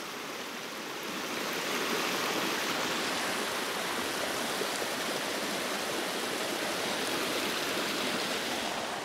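Cascading water at Springbrook pours down a rainforest stream, a dense, steady broadband rush that swells in over the first seconds and then holds loud and unbroken, with no voices.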